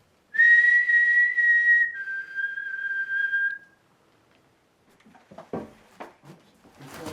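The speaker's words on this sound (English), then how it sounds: "See, I'm hearing a whistle as well." A clear, sustained whistle in a haunted hall, one long steady tone that then drops to a slightly lower held note, followed by quieter scattered knocks and rustles.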